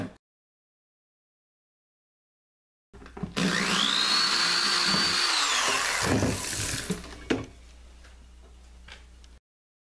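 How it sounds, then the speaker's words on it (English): A power drill bores pilot holes in a plastic auger tube for an aquaponics fish feeder, whining up in pitch for a few seconds of close, loud drilling before winding down after a silent start. "The auger tube now is having its pilot holes bored."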